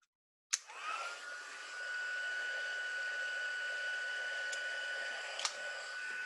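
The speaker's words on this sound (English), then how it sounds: "I'm going to bring in the heat tool, and I'm going to heat that and melt that embossing powder into the Versamark ink." A heat tool used for melting embossing powder into Versamark ink in paper crafting starts with a click and then blows a steady, even whirring hiss, with a couple of faint taps partway through.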